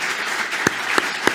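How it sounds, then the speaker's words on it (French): Brief, steady applause from an audience greeting Brigitte Barège, mayor of Montauban, a dense even patter with a few sharper claps standing out. "On peut vous applaudir, Brigitte Barège."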